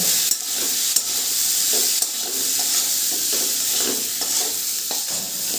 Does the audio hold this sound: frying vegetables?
yes